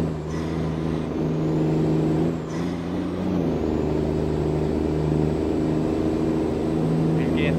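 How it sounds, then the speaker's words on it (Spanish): A heavy truck engine with its turbo in American Truck Simulator drones loudly and steadily under load, a deep rumbling tone with a brief hiss and pitch shifts as gears change. "Vean cómo suena ese turbo."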